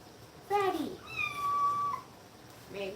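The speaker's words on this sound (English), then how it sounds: "There's the kitten" A kitten meows in a kitchen where corn on the cob is going into the oven, giving a couple of clear, close rising-and-falling cries with a fainter third call at the end.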